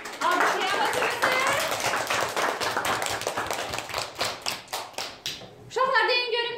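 Preschool children's teams at a mini olympiad clap for themselves in a burst of quick, rhythmic claps that gradually thin out, followed by children's voices calling out at the end.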